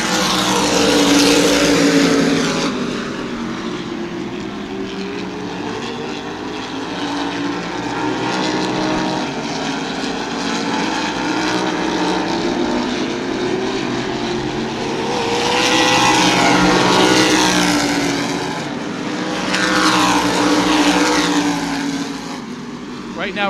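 Modified race cars at New Smyrna Speedway roaring past in waves, loud and continuous with rising and falling engine passes, under a commentator's voice.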